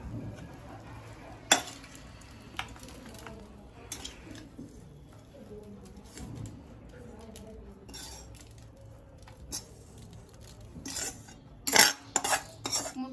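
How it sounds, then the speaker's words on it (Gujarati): Cooked kothmir muthiya (coriander dumplings) being moved onto a plate in a home kitchen, with scattered clinks and scrapes of metal utensils against cookware over a soft background hiss, several sharp clatters near the end. "હવે આપણે પ્લેટમાં કાઢી લઈએ।"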